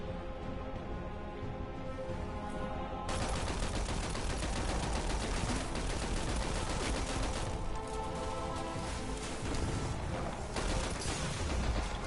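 Dense, continuous weapon fire from the Destiny 2 video game, including Arbalist shots, blending into a loud, unbroken barrage that swells after the first few seconds and holds steady to the end.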